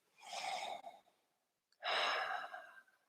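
A deep yoga breath, drawn in slowly and audibly, then after a short silence let out as a long, breathy exhale, close and clear with no talking.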